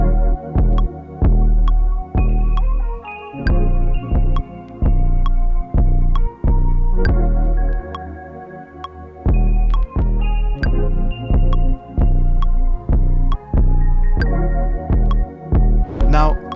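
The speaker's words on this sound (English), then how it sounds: "Now, I'm gonna use a free clipper called Free Clip, yeah, to really make this thing hit." A music beat run through a clipper plugin plays as punchy, heavily clipped kick and bass hits in a steady rhythm with sustained tonal chords between them, loud and dense throughout.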